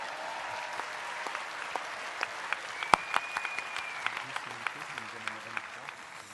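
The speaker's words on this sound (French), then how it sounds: "je vous demande de vous applaudir pour ceux qui sont encore là" Sparse applause rises from the audience at a trade union congress, a thin scatter of separate hand claps at a distance in a large hall, with some voices in the background.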